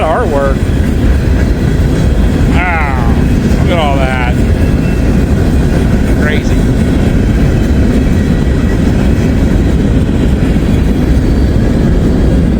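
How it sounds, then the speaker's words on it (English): A Norfolk Southern train passes outside in cold weather, its steady rumble and rail noise filling the scene under wind, while people talk and exclaim nearby. "This is the first train of the day since we've been up here."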